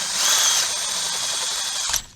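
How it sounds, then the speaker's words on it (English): A power drill bores holes in an old Toyota truck part, a close, steady high whine lasting about two seconds before it cuts off abruptly. "And we're gonna drill these one by one."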